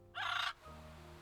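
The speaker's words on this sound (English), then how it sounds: "It's a real Gaga bird." A Gaga bird in the Little Witch in the Woods video game gives one loud, harsh crow-like caw lasting about half a second. A steady low musical background tone continues after it.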